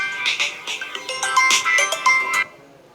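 A phone rings with a melodic electronic ringtone, a run of bright chiming tones in quick bursts for about two and a half seconds, then cuts off, heard clearly with no talk over it.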